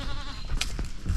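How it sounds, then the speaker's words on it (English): Young goat kids on a farm give a short, close bleat, wavering and nasal, lasting about a second alongside some rustling. "but we do have our baby goats"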